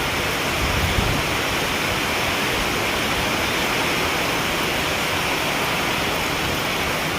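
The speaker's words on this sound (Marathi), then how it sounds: "आता दुपारच्या दोन वाजल्यापासून पाऊस जे सुरू झालेला आहे तर जोरदार पाऊस येत आहे" Heavy rain pours down in a steady, loud, unbroken roar of dense hiss, with no voices and no letup.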